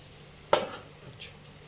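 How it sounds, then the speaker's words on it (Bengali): A lid is set down on a cooking pan while rice-flour chitoi pancakes cook, making one sharp metallic clink with a short ring. Faint kitchen background follows. "এটা আমি ঢাকনা দিয়ে দেবো"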